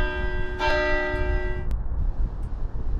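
Tolling bells in the dark game soundtrack of Mothlight, one bright bell strike ringing over a low rumbling ambient bed before cutting off, leaving the murky drone alone.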